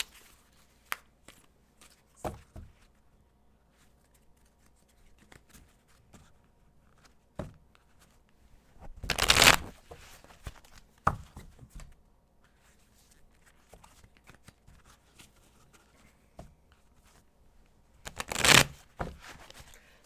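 Tarot cards being shuffled by hand in several separate bursts, with brisk riffling rushes and soft slides and taps of the cards between them, close and clear with no talking.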